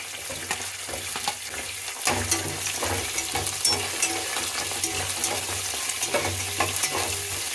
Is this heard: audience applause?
no